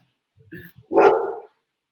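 A dog gives a few soft grunting yips and then one louder, fuller bark, heard close by on its own.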